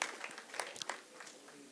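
Audience applause at a nautanki theatre festival, a short, faint burst of scattered clapping heard from a distance.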